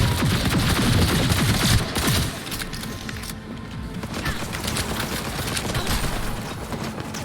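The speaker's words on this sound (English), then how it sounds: "Getting bombed." Heavy in-game bombing rattles off as a dense barrage of blasts and crashing impacts, loudest in the first two seconds before settling into a steady, rumbling stream of smaller hits.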